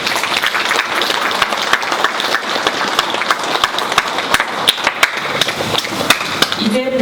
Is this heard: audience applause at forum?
yes